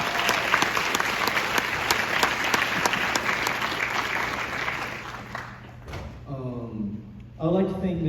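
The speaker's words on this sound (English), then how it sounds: "So, can we get a round of applause for him as well?" An audience at a band awards ceremony claps and cheers loudly and densely for several seconds before the applause fades and a voice begins speaking.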